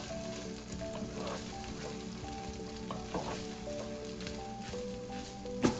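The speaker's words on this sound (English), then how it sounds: "keep on stirring and mixing it well because otherwise the ginger and garlic paste might stick" Ginger and garlic paste sizzles steadily in a hot pan for a pork curry while a utensil stirs and scrapes through it, a constant close frying hiss with occasional clinks and no talking.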